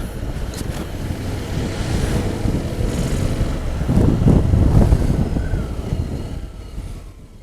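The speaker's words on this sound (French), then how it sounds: "j'ai le vent dans le haut du casque" Wind roars steadily against the top of a motorcycle helmet while riding a 2017 Honda X-ADV scooter with its windscreen set low. The dense, loud rush swells midway and fades toward the end, with no voices.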